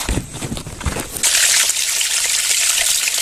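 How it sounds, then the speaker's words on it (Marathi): Tap water pouring from a pipe onto spinach held in a basket: splashing and trickling at first, then a steady, close, hissing gush of running water. "इथे नळाखाली डायरेक्ट पायपाखाली टोकरीमध्ये पालक ठेवून आपण स्वच्छ असं धुवून घेऊया"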